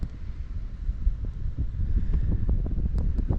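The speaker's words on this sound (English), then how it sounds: "I'll try to block the wind for you here" Outdoor wind buffets the microphone with a low, rumbling roar that swells and fades unevenly, fairly loud, with faint rustling behind and no talking.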